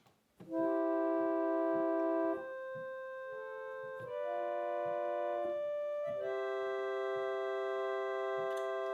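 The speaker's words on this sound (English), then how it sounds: "the standard melodia sounds like this." Sustained chords on a 1914 Mason & Hamlin Style 86K reed organ's melodia stop, steady and straight-toned, changing harmony every couple of seconds with faint key clicks between chords.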